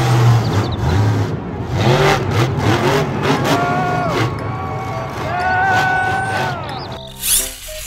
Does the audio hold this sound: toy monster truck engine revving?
yes